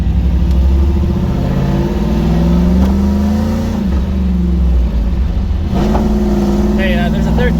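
A 1989 Chevrolet S10 Blazer with an LS V8 swap and five-speed manual accelerating, its engine note rising steadily in pitch and loud from inside the cab, with people talking over it.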